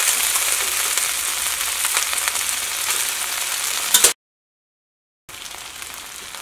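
Broken wheat for upma sizzles loudly in a hot pan, a steady close frying hiss with light stirring that cuts out abruptly for about a second before resuming, with no voices.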